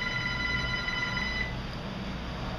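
A telephone rings indoors with a steady electronic tone for about a second and a half, then stops, leaving a quiet room hum.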